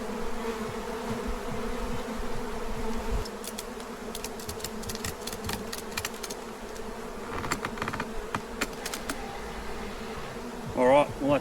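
A steady insect buzz hums close by throughout, a dense drone of many honeybees around a hive, with scattered clicks and knocks of handling.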